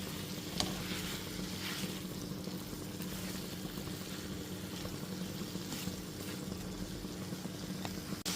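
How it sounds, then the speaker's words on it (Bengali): Fried okra pieces are stirred with masala in a hot pan over a low-to-medium gas flame, giving a steady close sizzle with scraping and occasional clinks of the spoon, and no talking. "সমস্ত ভেজে রাখা ঢ্যাঁড়সের টুকরোগুলো দিয়ে দেওয়ার পর খুব ভালো মতো একটুখানি 2 থেকে 3 মিনিট ধরে মিশিয়ে নিচ্ছি।"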